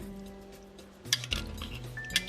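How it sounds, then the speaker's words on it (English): A utensil stirs through beef stew in a cooking pan, giving soft scrapes and a few sharp metallic clinks against the pan, quiet and close. "So I'm just going to stir that around."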